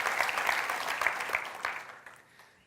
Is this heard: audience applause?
yes